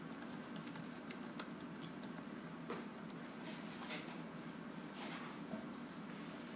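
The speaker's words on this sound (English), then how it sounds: "We just type it in." A search query is typed on a computer keyboard attached to a Raspberry Pi, giving faint, quick keystroke clicks over a steady background hiss, with no talk.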